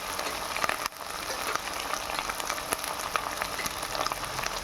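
Beef mince with ginger paste and chickpeas being stir-fried in a home kitchen pan, giving a faint, steady crackling sizzle with scattered pops and no talk.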